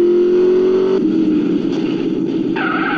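A car engine races at speed in GTA San Andreas, a steady loud drone that drops in pitch and shifts as it revs, with no talk over it.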